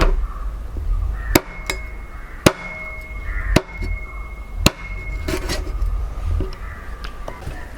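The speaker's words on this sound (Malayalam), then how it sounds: "അപ്പോൾ നമുക്കിതൊന്ന് കട്ട് ചെയ്തെടുക്കാം. ആദ്യം കാല് കട്ട് ചെയ്ത് മാറ്റാം." A knife chops the legs off a plucked duck on a board, with about five sharp, loud, separate thwacks spaced unevenly over a quieter background with a faint tone.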